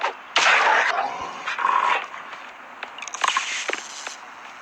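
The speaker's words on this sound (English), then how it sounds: "So another dog." A dog in the Cyberika video game barks and yips in several quick bursts, loud and close, with short gaps between the calls.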